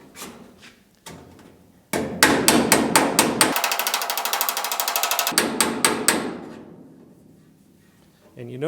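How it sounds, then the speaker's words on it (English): Glancing, sliding hammer blows strike a GTO rear body panel close by, first as a few spaced taps and then as a quick steady flurry that slows and stops, with no voices. "you notice how my blows with the hammer are a glancing blow"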